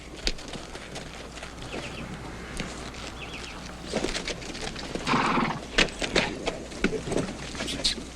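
Hooves clip-clop irregularly on hard ground with a horse's whinny rising midway, amid outdoor rustling, snorts and shuffling movement close by, in a scene from a 1988 Western film set in Texas.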